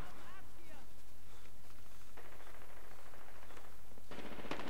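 Rapid automatic gunfire in the multiplayer shooter Medal of Honor Warfighter, a fast rattling burst amid game noise, with someone talking over much of it.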